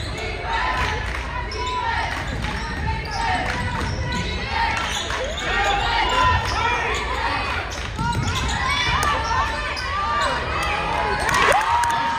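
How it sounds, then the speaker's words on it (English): A crowd in a gym at a high school girls' basketball game between CHS and Yorba Linda cheers loudly and steadily, with sneaker squeaks, ball bounces and an announcer's voice mixed in. "And the crowd goes wild."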